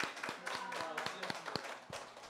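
A small studio audience claps at the close of a televised youth debate show, with distinct, fairly close individual claps forming a loose, uneven rhythm that stays at moderate volume.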